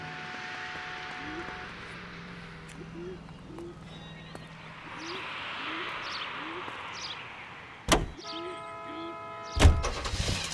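Car engine in the 1940s Los Angeles crime game L.A. Noire, a steady drone under light ambient chirps that is broken near the end by two sharp thuds like doors shutting.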